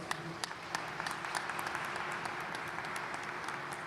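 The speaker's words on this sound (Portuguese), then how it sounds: "Vamos aplaudir a palavra de Deus?" Church congregation applauding during Mass: steady, dense clapping from many hands fills the whole stretch at an even level, with a faint sustained tone underneath.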